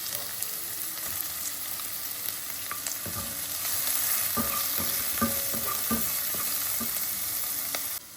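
Chopped onion is added to a hot pan of methi leaf thoran and fries with a steady sizzle. Scattered clinks and scrapes of stirring come through near the middle and end, with no voices.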